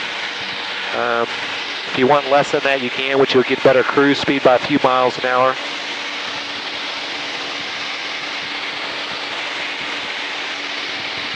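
A Jabiru 6-cylinder engine driving a Zenith STOL CH 750 light sport aircraft in flight, a smooth steady drone heard from inside the cabin, with someone talking over it for the first half before the engine runs alone.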